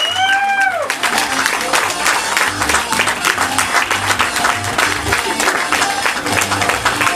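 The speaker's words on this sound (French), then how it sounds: "on applaudit les mariés! Ils ont travaillé fort!" Wedding guests clap and cheer for the newlyweds at a reception, steady applause filling the room with a voice over a microphone at the start and talk mixed in.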